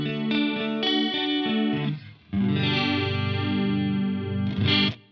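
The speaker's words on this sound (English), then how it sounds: "you get a more lush sound on this chorus mode." Guitar notes and chords ring out through the chorus mode of a TC Electronic 2290 P delay pedal, with no delay repeats, giving a shimmering, wavering lushness that sustains across the phrase, with no talking.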